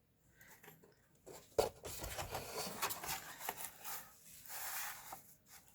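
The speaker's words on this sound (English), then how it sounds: "I'm going to just cut the paper in half." A paper cutter slicing a sheet of paper in half, heard as a series of close scraping and rubbing strokes with a sharper snap near the start, fairly quiet and with no talking.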